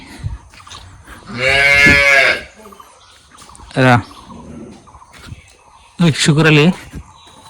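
A cow lows at the spot where cows are milked, giving three loud, drawn-out moos: a long one, a short one, then another long one, with quiet farmyard background between them.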